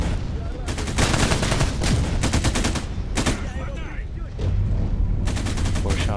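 Gunfire in S.T.A.L.K.E.R. GAMMA: bursts of loud, close rapid shots in quick succession, with a brief lull between volleys and a voice talking over part of it.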